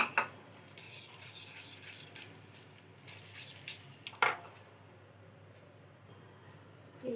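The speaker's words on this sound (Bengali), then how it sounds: "এই যে আমি এটা জল দিয়ে গুলিয়ে নিয়েছি" Flour batter being whisked with water for egg chapatti, giving rapid scraping and clinking of a spoon or whisk against a bowl in bursts, followed by a sharp knock and a quieter pause, with no voices.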